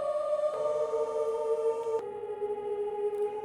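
A frozen reverb sample from the WoFi sample generator plays as a sustained, shimmering tonal drone with layered steady pitches. The pitch and texture shift abruptly twice, with no voices.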